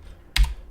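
A single sharp keystroke on a computer keyboard lands crisply and close, with a faint room hiss around it.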